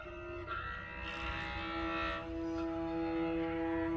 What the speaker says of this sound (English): then realize what you're hearing is ice